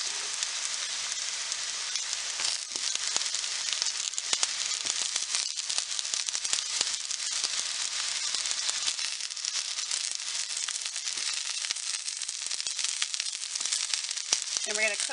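Tomatoes and pork sizzle and fry steadily in a hot pan, a continuous close crackle with small pops running evenly throughout and no talking over it.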